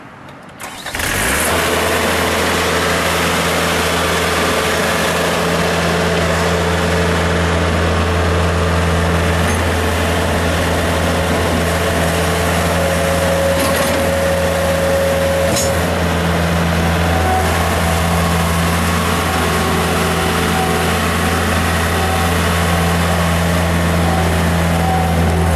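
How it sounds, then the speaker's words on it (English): Diesel engine of a 2011 Gehl 4640E skid steer loader cranking and catching, then settling into a steady, loud, close idle that drones on with a constant low hum for the rest of the time. "Go ahead and fire it up, Harry."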